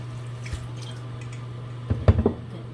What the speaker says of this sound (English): I like to wash my vegetables in filtered water.